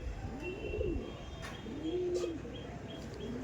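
Male pigeons coo softly in low, rolling phrases, two or three calls against a quiet background with a faint chirp or two.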